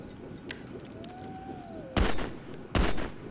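Two loud gunshot bursts ring out in a video game, the second about a second after the first, each with a short echoing tail over a steady game background and a faint rising whine.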